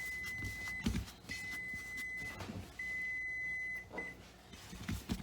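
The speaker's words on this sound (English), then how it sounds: "It was our timer telling us that it was time to check the bread" A kitchen timer beeping while whole wheat bread is being checked: long sustained electronic tones in several stretches with short gaps, steady and moderately loud over low kitchen rumble and occasional handling thumps.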